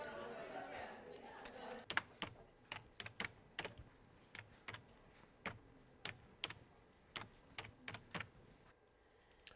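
In a film scene, someone types on a computer keyboard in steady, irregular bursts of crisp key clicks, heard close and clear over a quiet room with faint background murmur.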